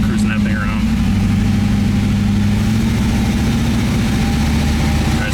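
A stock IROC engine, a 350 V8, roars steadily on a dyno with a deep, sustained induction drone, loud and close, while a person talks over it.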